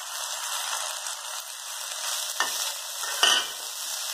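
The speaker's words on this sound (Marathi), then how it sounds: "गॅस बारीक करूनच भाजा" Dal and chopped onion greens roasting in a pan over a low flame, a steady hissing sizzle with a couple of scraping stirs and a brief metallic clink, close and without talk.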